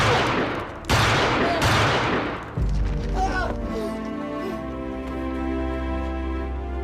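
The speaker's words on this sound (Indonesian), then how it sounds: "Tidak lama kemudian terdengar suara tembakan" Bursts of gunfire crack loudly in quick succession, followed by fainter thuds and a ringing, tonal tail.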